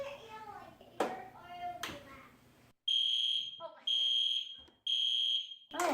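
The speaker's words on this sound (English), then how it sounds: "I just want you to experience the full power of the horn strobe" Three loud, piercing blasts from a fire alarm horn strobe, each lasting about a second with short gaps, sound close by after people talk and clap briefly beforehand.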